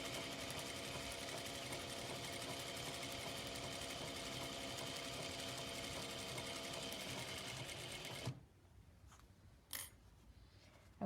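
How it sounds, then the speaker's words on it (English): Sewing machine stitching a quilt seam, a loud, steady mechanical whir that runs continuously for about eight seconds, then stops abruptly, leaving a few faint handling knocks. "Gonna sew that seam."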